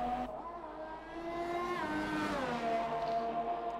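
McLaren race car engine at the Australian Grand Prix in a racing video game, a loud sustained high whine that rises and falls through gear changes and shifts in revs, alone without talk.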